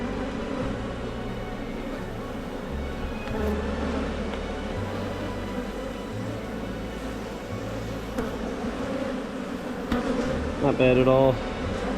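Honey bees hum in a continuous buzz near a backyard hive opened for a late-May frame inspection, with a brief remark from a person and a short burst of louder buzzing near the end.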